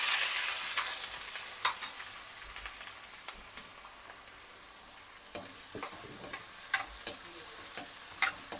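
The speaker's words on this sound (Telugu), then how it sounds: "ఇప్పుడు వీటితో నేను ఆనియన్ కూడా వేసేస్తున్నాను" Onions frying in hot oil with cinnamon sticks and cloves for chicken kurma, a steady close sizzle with scattered sharp crackles and spatters that grow busier toward the end, no talking.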